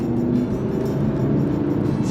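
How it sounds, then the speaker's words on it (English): Inside an Audi RS3 8V on a drive, a steady low engine drone holds throughout as the car gently accelerates, with road noise and no talk. "Accelerate a little bit here."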